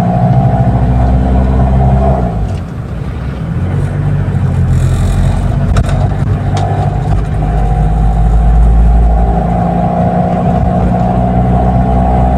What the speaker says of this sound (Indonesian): Yuk ikutin perjalanan saya mencari tempat sambil test drive nih Brancis.